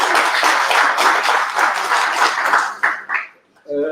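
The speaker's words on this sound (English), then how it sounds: "Can we give him another round of applause?" A council chamber crowd applauds the newly sworn-in mayor, loud and sustained, then trails off, with a voice starting to speak at the close.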